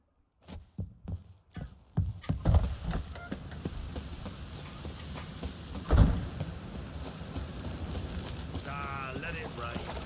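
Steady rain hisses throughout after a few opening thuds, with a deep rumble of thunder rolling in midway, in the video game The Witcher 3.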